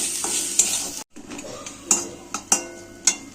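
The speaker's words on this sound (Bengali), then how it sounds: "দিয়ে মশলাটাকে একটু কষে নেব।" Spice paste with cumin and chili powders is stir-fried in a pan, with a gentle sizzle under a series of sharp metallic spatula clinks and scrapes against the pan, close, with a brief dropout near the start.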